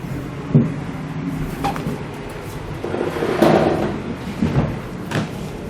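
Vinyl coin-pattern flooring being unrolled down a small ramp and dragged into a trailer, giving scattered scraping, thumping and rustling bursts of moderate loudness with no talking.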